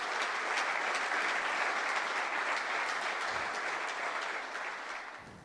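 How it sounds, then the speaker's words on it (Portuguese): A church congregation claps in sustained, even applause that fills the room, holding steady before easing off slightly toward the end. "Aplauda o Senhor para a glória de Deus."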